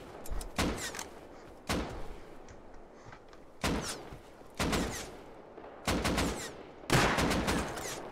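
Pistol shots in the video game Rust, about six sharp separate reports spaced roughly a second apart, each with a short ringing tail and a faint quiet gap between shots.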